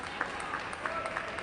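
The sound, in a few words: applause at table tennis match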